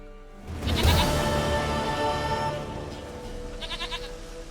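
A goat in The Witcher 3 video game gives one long, loud, quavering bleat close by, followed by a softer trailing bleat.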